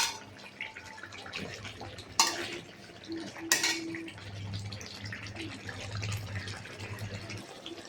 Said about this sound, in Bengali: যতক্ষণ না তেল ছাড়বে ততক্ষণ মাংসটা কষাতে থাকবো